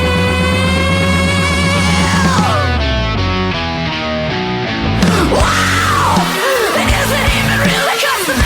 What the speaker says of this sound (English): it goes into that heavy part where she's kind of screaming a little bit